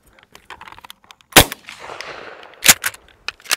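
A Mossberg 500 .410 pump shotgun fires at hand-thrown clay targets outdoors, two loud sharp reports about a second apart standing out over quieter background clatter.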